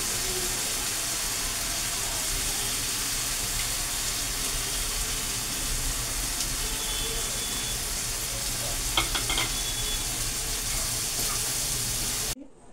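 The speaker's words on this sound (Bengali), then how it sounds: "এবার আমি এটা দিচ্ছি পোস্ত বাটা আর তার সঙ্গে কাজু বাটাটা।" Poppy seed and cashew paste fries in a pan with a steady, close sizzle and frying crackle. A few clinks are heard near the end, and the sound then stops abruptly.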